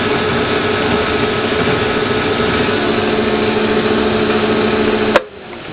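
An 18-inch vertical band saw runs at its high-speed setting, giving a steady, loud mechanical hum with a constant motor tone that holds evenly before cutting off abruptly near the end.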